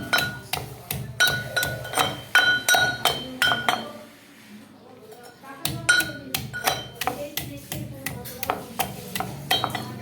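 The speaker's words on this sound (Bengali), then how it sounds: "হামনদিস্তা দিয়ে হলুদ পেশা" Turmeric is pounded in a metal mortar and pestle, a run of sharp ringing clinks and thuds in an uneven rhythm, close and distinct, with a brief pause partway through before the pounding resumes.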